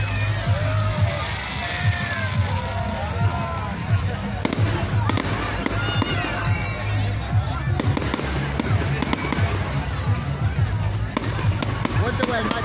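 A 2021 Fawkes in the Walks Bonfire Night firework display, with loud continuous bangs, crackles and whistling rockets going off close by, while a crowd murmurs and people talk throughout.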